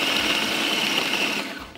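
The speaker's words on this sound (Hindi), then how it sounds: "पहले मैं इसको अच्छी तरह से पीस रही हूँ," A mixer grinder whirs steadily as it grinds kebab mixture for a double kebab burger, a loud, bright, continuous motor whine that runs unbroken before winding down at the end.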